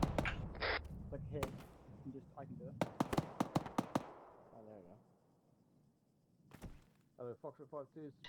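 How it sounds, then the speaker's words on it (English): A gunshot goes off during an airborne training exercise, heard as a few sharp, loud cracks and bangs between stretches of radio chatter and speech. "You just had a gunshot next, like 5 meters from me."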